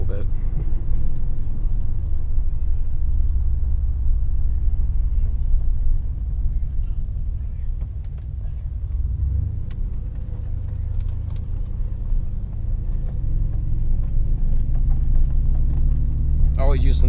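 A 2005 Pontiac Grand Prix GXP with a heat-wrapped exhaust idles, a steady, deep, fairly loud engine rumble that goes on the whole time, with someone talking over it.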